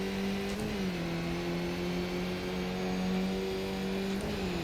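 A damaged race car engine in the iRacing sim, a Skip Barber car at the Nordschleife, drones at a steady, rough pitch with small dips, loud and continuous, with no voices.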